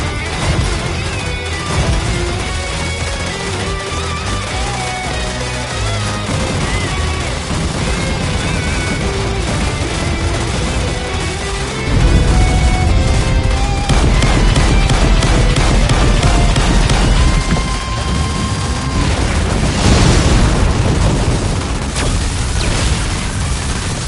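Explosions in the shoot-'em-up video game Raiden V come as a dense run of booms, blasts and crashes over a driving music track, loud and nearly constant, with a heavier burst around the middle and no talk.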